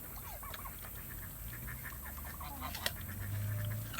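Backyard poultry squabble over an apple: a series of soft clucks and squawks against a low outdoor hum, fairly close, with one sharp click and a louder honking call near the end.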